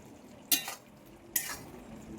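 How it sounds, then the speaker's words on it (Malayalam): Prawn peralan is stirred in a pan, giving three short, bright scraping strokes spaced about a second apart over a low background hiss, with no talking. "അതിൻ്റെ വെള്ളമൊക്കെ പറ്റി വന്നിട്ട് ഒന്നും കൂടെ ഒക്കെ ഇളക്കി."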